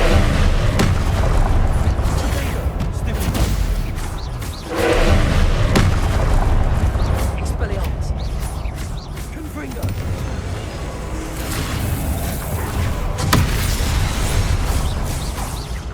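Confringo fire spells from Hogwarts Legacy boom and burst repeatedly amid continuous loud combat noise, with thuds and pops overlapping through the whole stretch.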